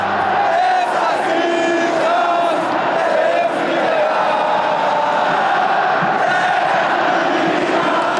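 Corinthians football fans in a stadium arena chant louder in response, a massed roar of voices with sustained sung tones and shouts that stays loud and unbroken, like a large crowd singing together.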